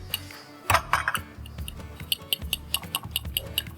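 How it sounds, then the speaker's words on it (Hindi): Eggs beaten in a bowl with quick, rapid clinks and taps of utensil against the bowl's side, fairly close and steady, with no talking. "आलियान एग्स बीट कर रहे हैं"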